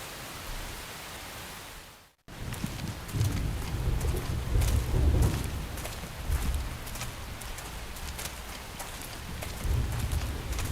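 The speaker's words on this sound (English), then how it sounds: "The rain's starting to let up, just in time for sunrise." Heavy rain pours in a video game, Xenoblade Chronicles X, as a steady loud hiss that cuts out briefly, then returns with low rumbling surges like distant thunder.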